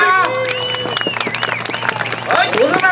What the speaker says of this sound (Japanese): マギマギと大きな拍手お願いしますよ